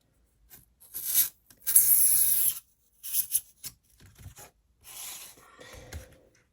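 A craft knife cuts foam core board for mini shelves in short, scratchy strokes separated by silent gaps, close and fairly crisp, with quiet handling noises between cuts.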